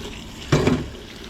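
Water gushes in a short loud burst through a sluice used for micro scrapping dirty copper, rising abruptly over a quiet background hiss and then easing off within a fraction of a second.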